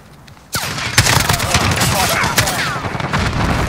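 Modern Warfare multiplayer gunfire: after a quiet start, a sudden loud burst of rapid shots and impacts, then continued close automatic fire and cracks scattered through the remaining seconds.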